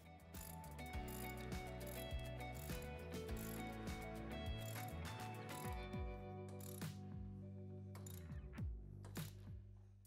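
A socket ratchet clicks rapidly as it tightens nuts on a Polaris RZR XP Turbo S mirror mount, bursts of close, sharp pawl clicks running steadily with brief pauses, no talking.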